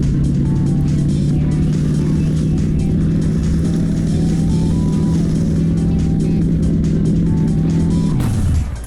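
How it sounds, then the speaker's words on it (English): A V8-swapped VW Caddy with big rear wheels roars downhill in the driving game A Long Road, its engine holding a loud, steady high-speed drone that climbs slightly before dropping away abruptly near the end. "It turns out that the V8 VW Caddy with big rear wheels can reach speeds of 300 kilometers per hour when going downhill"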